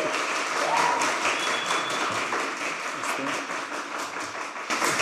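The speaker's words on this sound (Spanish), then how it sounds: "Un aplauso" Applause from a concert audience for a young guitar composer at a classical guitar recital, a steady ripple of clapping that eases slightly midway before swelling again at the end.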